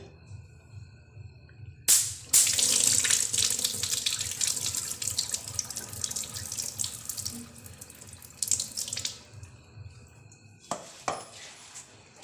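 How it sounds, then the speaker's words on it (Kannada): Water pours out in a steady rushing stream as ration rice soaked for seven to eight hours is drained, then it stops and a few clinks and drips follow. "ಈಗ ಇದು ನೀರು ಬಸಿತಾ ಇದ್ದೀನಿ"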